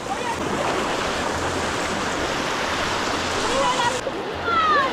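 A strong water current rushes steadily and close by in a river or coastal channel during a fishing outing, a dense continuous wash that swells slightly near the end.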